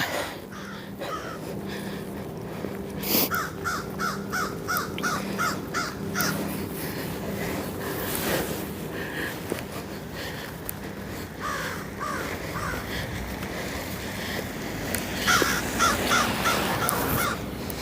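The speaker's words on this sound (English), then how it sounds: "Hello, crow." A crow caws repeatedly outdoors in a park-like area popular with joggers and cyclists, the calls coming in bursts over steady background noise with no talking.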